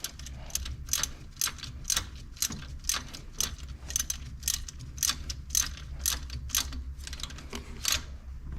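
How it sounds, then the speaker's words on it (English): Repeated quick ratcheting clicks as a hand ratchet tightens the top bolt of a C7 Corvette drive belt tensioner assembly, close and rhythmic, running in bursts. "Now I can take my ratchet, tighten down the top bolt."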